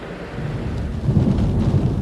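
Steady rain falls on a Charleston morning during Hurricane Floyd, a dense, constant wash with deep rumbling beneath it that swells slightly toward the end.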